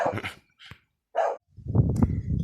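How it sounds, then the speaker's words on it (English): Dogs barking at a truck across the road, a few sharp, fairly close barks separated by brief gaps, followed by a busier burst of barking and commotion at the end. "The dogs are going fucking nuts at the truck across the road."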